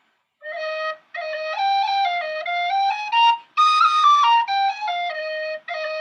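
A tin whistle plays a lively melody of clear, bright sustained notes with brief breaks between phrases, close and alone without any talking.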